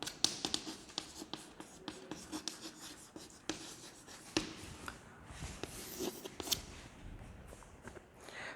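Students in a 9th-grade English class write with pens on paper, a quiet, continuous run of scratching strokes and soft taps, with occasional rustling and no speech.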